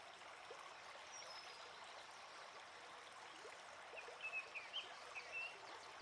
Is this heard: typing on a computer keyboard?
no